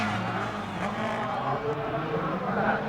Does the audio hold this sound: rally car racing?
yes